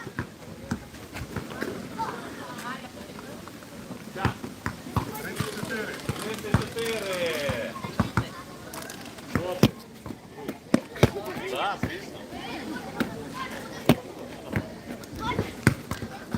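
A basketball bouncing indoors during a live stream, sharp irregular thumps scattered throughout, mixed with voices talking and laughing nearby.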